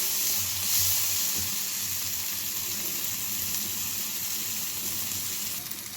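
Onions sautéing in a pan for carrot and beans thoran give a steady, close sizzle with a constant frying hiss that runs unbroken throughout. No voices are heard.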